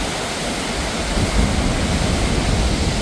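Steady, loud rush of a waterfall at Rotorua, New Zealand, filling the whole sound, a constant roaring wash with no voices.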